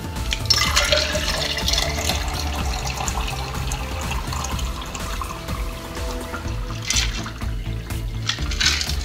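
Homemade cucumber water is poured from a container into a glass, a steady close liquid stream with splashing and a rising fill tone throughout.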